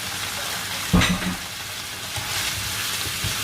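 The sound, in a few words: flour frying in oil in a pan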